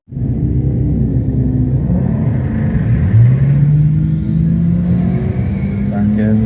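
A BMW drag racing car launching at Santa Pod Raceway, a loud, close, heavy engine rumble that builds into a rising rev as the car pulls away, with a commentator talking over it.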